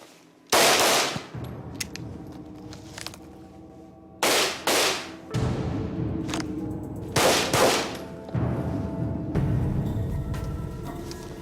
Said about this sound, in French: Dès lors que j'éclaire votre cible, vous tirez 2 cartouches.